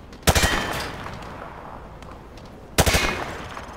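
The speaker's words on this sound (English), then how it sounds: "He sprayed bullets all over the damn place." Two sharp bursts of hip-fired gunfire in Call of Duty Modern Warfare 2, the first just after the start and the second near the end, each a rapid rattling volley that trails off over a quiet background.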